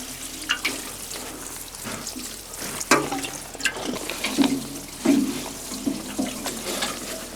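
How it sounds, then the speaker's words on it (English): Water splashing and trickling onto seedlings in a garden bed, an uneven, moderately close pour with soft patters and occasional louder gushes throughout. "I'm up for the last task, which is watering in here."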